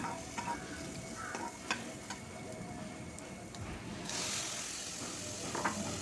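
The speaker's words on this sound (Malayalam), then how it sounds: "തക്കാളി ചേർത്ത് ഇളക്കി കൊടുക്കാം" Tomatoes being stirred into a pan with shallots and green chillies for rasam, a steady soft sizzle of frying with scraping spoon strokes and small clinks, close and continuous without talk.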